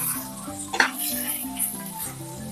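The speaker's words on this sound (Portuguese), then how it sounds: "Uma, dá uma mexida na nossa cebola para ela não queimar." A utensil stirs and scrapes onions sautéing in a pan for bacalhau à Gomes de Sá, giving a few clinks and scrapes over a soft sizzle and a busy background.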